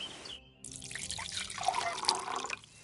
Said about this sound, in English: take my water skin. Fill it up in that barrel over there.